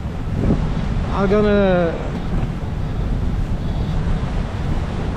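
Steady broadband wind roar and rushing sea while a boat sails upwind in about 28 knots of gusting wind at sea near Fiji, with a brief spoken phrase rising over the constant noise.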